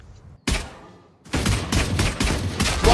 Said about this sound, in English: I hear two gunshots.